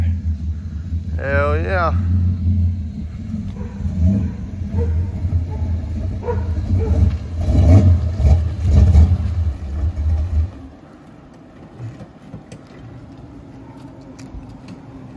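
A car pulls up nearby with a loud, low engine rumble that swells and then cuts off, leaving quieter ambient noise and a brief exclamation from a voice.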